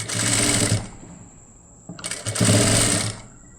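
A sewing machine stitching the neck of a lined blouse runs in two loud, close bursts of rapid whirring, separated by a short quieter pause, with no talking.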